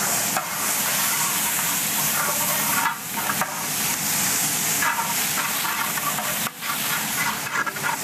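Onion and tomato fry in a pan for a Palakkad-style winter melon chicken curry, a loud continuous sizzle broken by a few brief dips as the pan is stirred.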